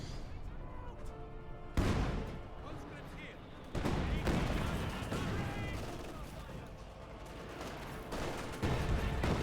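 Heavy Tiger tank cannon shots boom from a Company of Heroes 2 battle, with several sharp blasts over rumbling combat noise and a commentator talking throughout.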